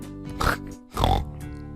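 Pig-like Oinkers from the video game Tingle's Rosy Rupeeland give two loud, close, nasal oinking grunts with a brief pause between them, over a quiet game music backdrop.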